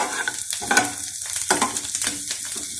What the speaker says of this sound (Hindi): गोभी हमारी अच्छी सी फ्राई हो गई है,